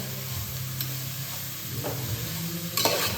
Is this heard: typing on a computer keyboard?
no